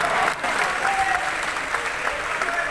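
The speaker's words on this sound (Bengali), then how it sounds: "সবাই হাততালি হাততালি হাততালি।" Sustained applause from a cinema audience, dense and even clapping that holds steady throughout.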